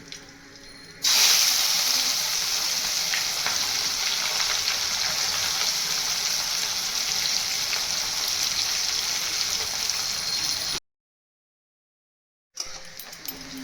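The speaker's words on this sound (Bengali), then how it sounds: "পেঁয়াজটা ভালো করে ভাজা হয়ে গেছে" A steady, loud sizzle of chopped onions frying in hot oil starts abruptly and continues for several seconds, then briefly cuts to silence.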